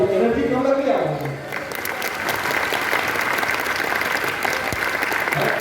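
Audience applause at a comedy show during an Urdu book fair in India, a dense wash of clapping that starts under a brief voice and then holds steady and full for several seconds.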